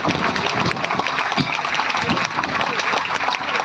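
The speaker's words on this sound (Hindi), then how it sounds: "एक विभाग के लिए आप जोरदार तालियां बजाओ, डीसी ऑफिस, रेवेन्यू ऑफिस के लिए" Loud, sustained applause from an assembled audience for staff of the DC office and revenue office at a gathering, continuous dense clapping filling the room with no pauses.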